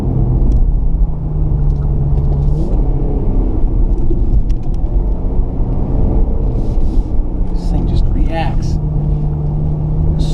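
Infiniti Q50 Red Sport driven in manual mode and Sport Plus through tight curves, a deep steady engine rumble heard from inside the cabin with a shift partway through, and someone talking over it the whole time.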